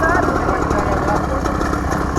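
A small mini bike engine idles in a steady, buzzing putter at close range on a roadside in Coimbatore, loud and continuous with no break.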